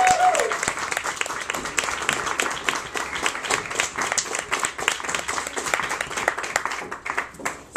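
An audience at a literary reading claps to welcome the reader. The applause is dense and sustained with some sharper individual claps, and a brief tone sounds at the start.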